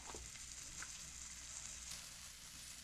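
A thinly cut pork steak fries in a pan with a steady, even sizzle and crackle and a faint scrape or two, no voices.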